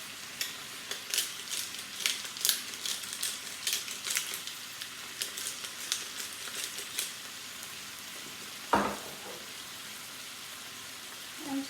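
Chicken skewers and tomato cook in a pan, giving a quiet, continuous sizzle with scattered pops and crackles, and a brief clunk near the end, with no talking.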